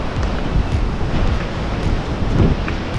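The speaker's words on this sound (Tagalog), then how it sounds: "Kaya maganda yung simoy ng hangin dito." Sea breeze at a beach in Mazatlan, Mexico, during a cruise stop, with loud, steady wind buffeting the microphone over a constant rush of surf, and no talking.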